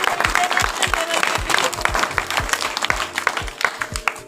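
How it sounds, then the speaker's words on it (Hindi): A crowd claps at a village welcome for a gold medal winner, with rhythmic beats from drums or percussion pulsing under the applause and some distant voices. "उसके लिए जोरदार तालियां।"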